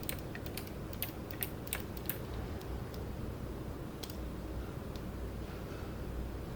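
Computer keyboard keys tapped in quick irregular bursts while modelling a die in 3ds Max 2023, close and fairly loud, with shortcut presses clustered early and sparser clicks later, no talking.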